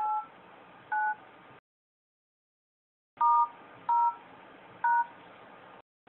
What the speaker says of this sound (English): every button that you press in dialer before you even call it already gets sent off to the IQ application